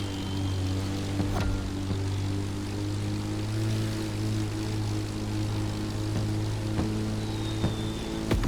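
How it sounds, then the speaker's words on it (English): A small aerobatic propeller plane in The Crew Motorfest drones steadily with a strong buzzing engine tone, holding near and loud for several seconds with a few sharp clicks. "its size makes it the perfect aerobatic aircraft"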